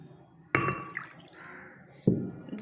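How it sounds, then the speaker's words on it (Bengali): Water from a bowl poured onto semolina in a kitchen, two short splashing gushes with a quieter trickle between them, close and clear with no talk. "সেই বাটি 2 বাটি মতো জল দিয়ে দেবো"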